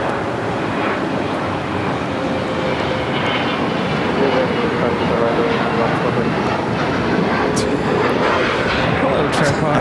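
A China Eastern Boeing 777-300ER arrives on the north side at LAX, its loud, sustained jet roar filling the clip with a faint tonal whine over a broad rumble.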